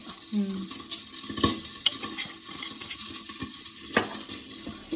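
Dry red chillies and cumin seeds fry in a pan for a tindora stir-fry, giving a steady close sizzle broken by scattered stirring clicks and scrapes.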